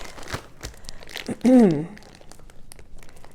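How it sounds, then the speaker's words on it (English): A plastic bag holding yeast crinkles in a short, loud burst while bread dough is being prepared, with brief talk around it. "I'm putting the yeast back in its plastic bag"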